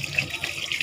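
Water pours from a tap as someone washes their hands and face, a close, continuous splashing trickle with small fluctuations.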